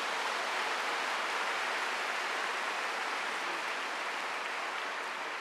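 Church congregation clapping in thanks at the close of a two-day cell group seminar, a dense steady wash of applause filling the whole stretch without a break.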